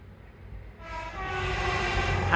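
Train passing along Teignmouth seafront, rising from a low rumble into a loud, close rush of wheels and engine with a horn tone building as it draws level.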